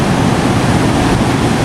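Ocean waves at Parangtritis beach, a steady loud roar of surf washing in continuously, broad and even with no distinct breaks, heard alone.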